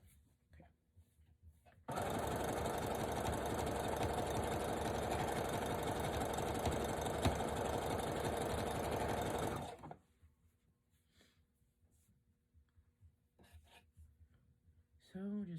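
Sewing machine running steadily as it stitches a twisted headband of stretch fabric along the presser foot edge, one continuous loud buzzing run of about eight seconds, with quiet handling before and after.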